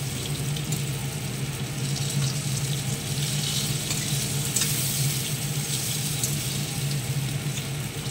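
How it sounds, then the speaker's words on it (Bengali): Eggplant slices frying in oil in a pan until browned, a steady, dense sizzle that holds at an even level throughout with no talk. "বেগুনগুলোকে লাল লাল করে ভেজে নেব।"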